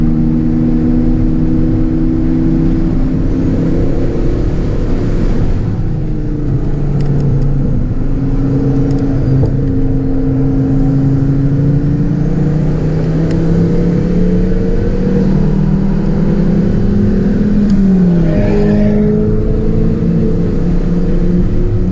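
Engine noise from a Ford Focus ST race car at Silverstone, mixed with a race car flying past on the track; a loud, steady drone with shifting engine tones and a brief swelling pass near the end.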